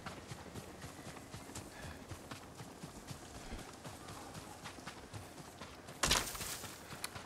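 Horse hooves in Ghost of Tsushima clip-clopping at a steady trot, faint and fairly even, with a burst of hissing noise near the end.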